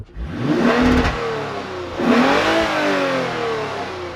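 A 2020 Lexus IS350 F Sport V6 engine revs twice, each throttle blip rising in pitch then settling to a throaty idle, loud and close.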